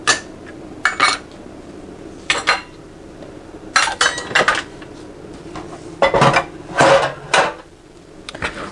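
Kitchen containers being moved and cleared away while French bread is made from scratch, giving a few separate clattering, clinking bursts of dishes and utensils, close and fairly loud, with quiet gaps between them.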